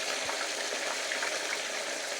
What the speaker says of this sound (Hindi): हमारा ऑयल गर्म हो चुका है। अभी हमें फुल आंच पे हमने इसको रोस्ट करना है।